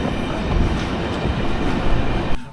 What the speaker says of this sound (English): Right, I'm on the train.